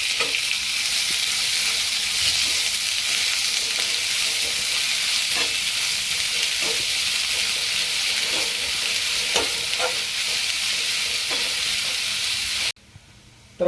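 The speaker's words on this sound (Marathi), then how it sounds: "तेल आपला गरम झालेला आहे. त्याला आपण कांदा फ्राय करायचा आहे." Sliced onion fries in hot oil in a pan with a loud, continuous sizzle. Faint clicks of stirring are scattered through it, and the sound cuts off abruptly near the end.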